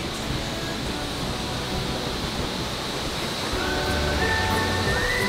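A mountain waterfall beside a restaurant roars as a dense, continuous rush of falling water, loud and steady throughout with no break.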